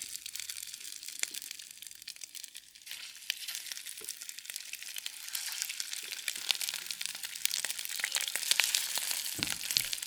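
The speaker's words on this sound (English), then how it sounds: "the wok is hot right now, so I put some oil in it. And I'm going to put the pepper in it" Sweet mini peppers stuffed with shrimp frying in oil in a hot wok: a bright, crackling sizzle with popping spatters, close and continuous, growing denser and louder over the ten seconds.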